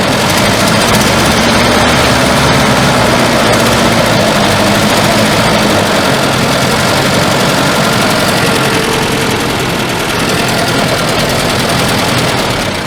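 Engine of a 1974 Volvo 142 with a suspected faulty injector, running rough and sputtering under throttle, a loud, continuous close-up roar with uneven knocking through the whole stretch.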